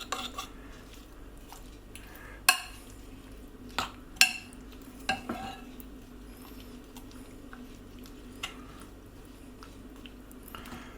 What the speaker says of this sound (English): Just stir until the flour's combined